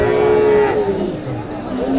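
A loud, drawn-out cow moo with a wavering tone, followed by lower lowing and a second call, set against a busy outdoor crowd murmur at a livestock market selling calves near Bogura, Bangladesh.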